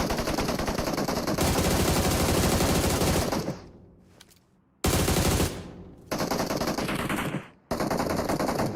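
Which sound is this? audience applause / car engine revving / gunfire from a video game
gunfire from a video game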